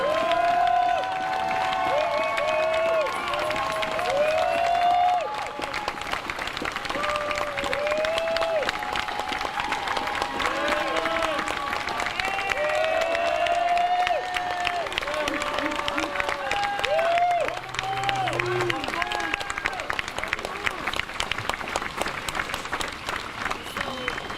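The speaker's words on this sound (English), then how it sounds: "I really want us to clap just again to show some love" Crowd at a Black Lives Matter protest near a museum clapping steadily and cheering outdoors, a dense sustained wash of applause with voices mixed in throughout.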